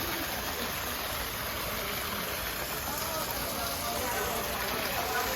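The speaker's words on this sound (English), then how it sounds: "And a beautiful waterfall." Steady broadband rush of falling water from a small waterfall, constant and fairly close, with no pauses.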